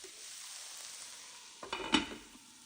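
Vegetables with Anaheim pepper, cumin, paprika and cayenne cook in a pan with a faint, steady sizzle, then a short burst of louder stirring and clattering near the end.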